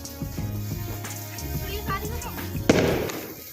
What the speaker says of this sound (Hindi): अबे भैया के पटाखे छोड़ दिए क्या?